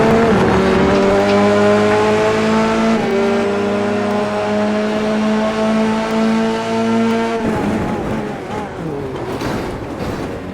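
F3 race car in the iRacing sim at Zandvoort screams at high revs, its engine note dropping through gear changes before breaking into a rough, scrabbling spin with tire noise toward the end, loud and close.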